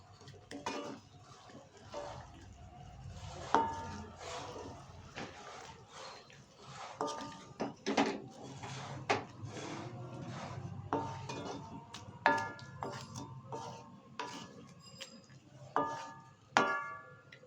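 A spoon stirring lentil dal with green chillies in a pot, quiet scraping and clinking strokes repeating irregularly over a low simmering background, close and soft.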